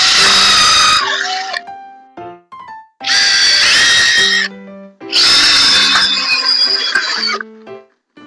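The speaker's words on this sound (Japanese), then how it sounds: "これをこの位置で裏返して、ビスで留めていきましょう。" A power drill drives screws to attach a homemade folding tray inside a car, three loud whirring bursts of about a second or two each with short pauses between, the pitch rising and settling as each screw seats, close and with no talk.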